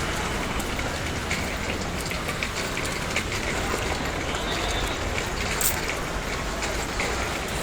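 Summer rain in Hong Kong falls steadily on hard surfaces, a dense continuous patter close by with occasional sharper drips, and no voices.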